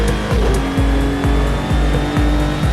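A GT3 race car in a racing video game at Imola holds a loud, sustained high-revving engine note. Rapid upshifts repeat roughly every half second, with a faint tire squeal underneath.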